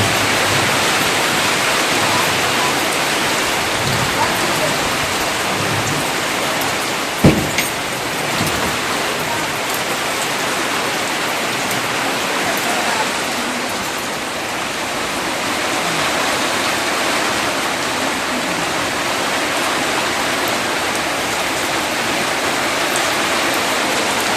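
Heavy rain with wind pours down in a continuous, loud wash of drops striking surfaces nearby, with a sharp single knock partway through and gusts slightly swelling and easing the roar.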